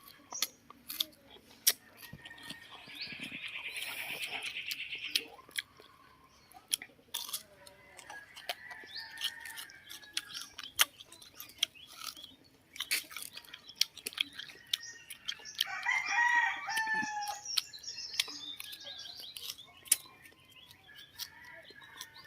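Birds and chickens call faintly in an outdoor garden, a few chirps and clucks scattered among close crunching and chewing sounds, with quiet stretches between.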